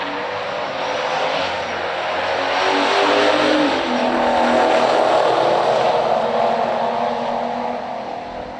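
A 1972 Chevelle Heavy Chevy with a 402 and a 1970 Torino Super Cobra Jet roar down a stock drag strip. Their engines make a loud, sustained broadband roar that swells through the middle of the run and eases slightly at the end. No one speaks.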